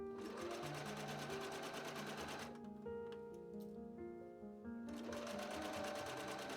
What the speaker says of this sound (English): I stitched along the sleeve and side seam in one go,